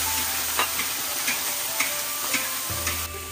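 Beef meatballs stir-frying in a wok with oil, scallion and ginger, a constant loud sizzle punctuated by regular light scrapes and taps of a spatula, with no talking.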